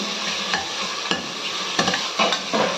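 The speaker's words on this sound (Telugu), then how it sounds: "ఒక గుప్పెడు కొత్తిమీర అండ్ పుదీనా మనం ఆయిల్లోనే వేయాలి." A handful of coriander and mint frying in hot oil for a mutton curry, with a steady sizzle broken by several sharp stirring scrapes close by.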